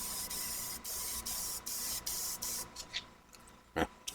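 Short bursts of spray paint hiss onto a test board in a steady rhythm, several quick sprays in a row, followed by scattered softer spritzes and a brief clatter.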